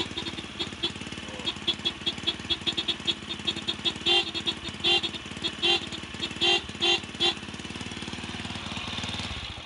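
Motorcycle engine running steadily with a capacitor fitted, its relay switched on, a loud continuous rattling drone with rhythmic knocking pulses and a few sharper bursts near the end, no talk over it.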